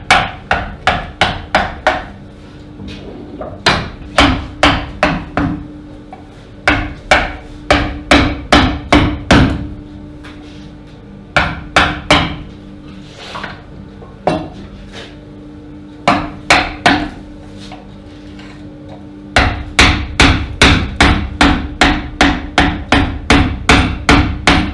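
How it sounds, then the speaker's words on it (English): A mallet drives a V-shaped chisel into wood while a craftsman carves a wooden friendship cup in the Aosta Valley, giving a long run of sharp, close knocks in quick bursts of four to six strikes separated by short pauses. "Utilizzo diversi tipi di scalpelli, in questo momento sto utilizzando uno scalpello a V."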